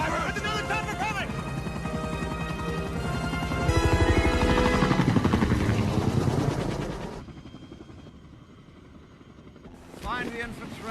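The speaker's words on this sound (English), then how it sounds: "There's another chopper coming!" A helicopter's rotor thumps loudly over a dense, busy film soundtrack from The Lost World: Jurassic Park (1997), swelling closer midway, then the noise drops away before a brief burst returns.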